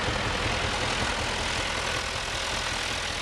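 A vintage tractor engine idles at an agricultural machinery club rally in Strathmiglo, Fife, with a steady, nearby low rumble that runs on without a break and has no talking over it.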